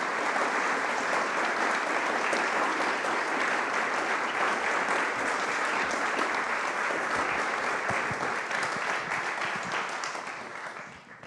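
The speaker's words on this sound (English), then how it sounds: "please help me welcome a big round of applause for Tommy and Barry." An indoor talk audience gives a sustained, loud round of applause welcoming two speakers, dense clapping that holds steady and fades out at the end.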